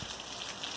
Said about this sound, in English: It's not raining real hard at the moment, but at least it's something.